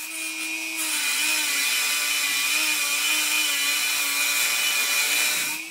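Old metal fingers are cut off a backyard foundry pouring shank with a power tool, making a loud, steady, high-pitched whine that holds for about five seconds with no talking.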